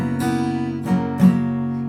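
A single electric guitar chord for the Nirvana song Come As You Are, with the second string muted and the bottom string left open, strummed three times in a steady rhythm, each strum ringing close and clear with no talking.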